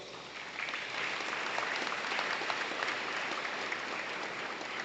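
Audience at a high school athletic Hall of Honor ceremony applauds an inductee, producing steady, fairly distant clapping that holds at an even level for about five seconds with no voices over it.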